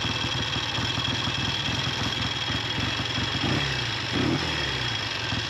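A Triumph T90 motorcycle engine idles close by with a fast, even tick-tick rattle from the top end over a low throb, broken by two short blips of the throttle near the end.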